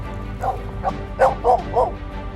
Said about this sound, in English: That dog agrees. He wants me to get going